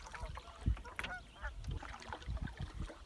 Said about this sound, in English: Oh, good morning, noisy geese.